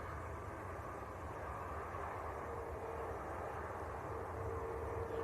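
A steady broad jet engine roar from an Airbus A321neo airliner at Manchester Airport, constant and fairly distant with a faint whine, steady throughout with no voices.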